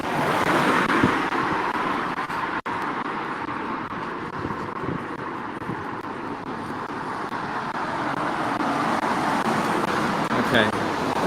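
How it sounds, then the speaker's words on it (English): Street traffic rumbles steadily through Devizes, Wiltshire: a continuous roar of passing cars and buses, loud and close throughout, broken only by a brief handling click. "the traffic will cause sound problems"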